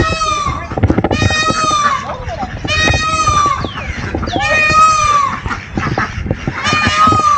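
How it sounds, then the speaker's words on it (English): Loud, harsh bird calls repeat across the clip, rising and wailing, with birds squawking throughout and people talking underneath. "Which one making that noise? The peacocks. They know they loud."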